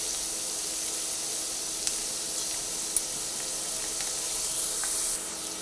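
Onions fry in hot oil with turmeric powder while cooking spicy til vendi, a steady soft sizzle and hiss with a few faint clicks of stirring.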